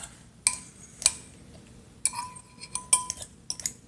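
Utensil clinks and taps against a bowl while deviled egg yolks are mashed, with scattered sharp metallic ticks and soft scraping at an irregular, unhurried pace, close and fairly quiet.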